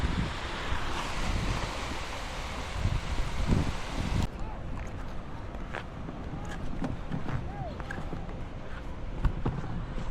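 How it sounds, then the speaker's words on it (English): Waves break on Castillo Grande Beach in Cartagena, Colombia, with a close, continuous surf wash mixed with gusty wind buffeting the microphone, and voices come through faintly in the background. "this is pretty much what Castillo Grande Beach looks like and has to offer"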